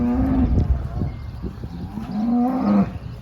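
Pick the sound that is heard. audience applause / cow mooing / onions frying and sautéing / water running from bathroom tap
cow mooing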